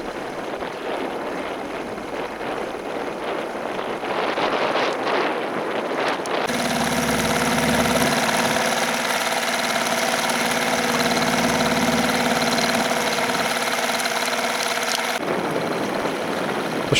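A sailing boat motoring under engine power on Suffolk waters, its inboard engine droning steadily and close, rising to a louder even hum midway with faint wind noise around it.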